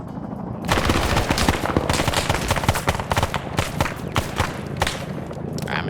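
Sustained automatic suppressing fire in a tactical shooter game, dense rapid bursts of gunshots rattling continuously at close range after a brief quiet start.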